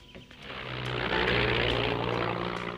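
An airplane flies overhead, its engine drone swelling from quiet to a loud sustained roar within a few seconds, with a steady low propeller hum beneath.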